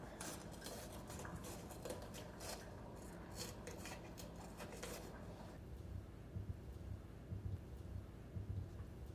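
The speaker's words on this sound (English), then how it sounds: "so now we're gonna cut the peppers, and I'm gonna cut them in long strips" A knife slices peppers into long strips on a cutting board, with quick repeated cutting taps for the first half, then softer scattered knocks and scraping, close and quiet with no talking.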